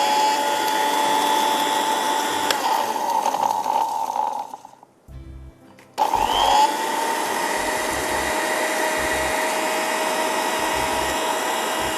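A mixer grinder blends spice masala for homemade achaar with a loud, steady motor whine. It cuts out for about a second partway through, then starts again and keeps grinding. No one speaks.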